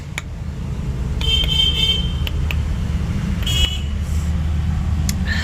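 Constant low roar of congested road traffic just outside a gate, with several short car horn toots and electronic beeps scattered over the steady rumble after a vehicle broke down nearby.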